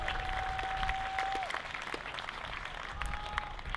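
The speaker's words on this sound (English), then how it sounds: "One more time, a nice round of applause for Daryl Aino." Audience applause at a Hawaiian slack key guitar festival on Maui, a steady wash of clapping from a crowd held throughout at moderate distance, with a faint sustained tone ringing above it.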